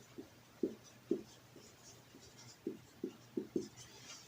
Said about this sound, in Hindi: लिखते हैं।